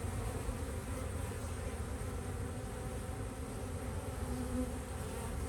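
Honey bees buzz around four hives at an apiary, a dense, steady drone that carries on without a break from start to end, with no voices.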